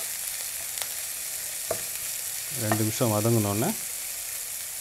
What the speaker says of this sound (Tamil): கொஞ்ச நேரம் வதங்கட்டும்.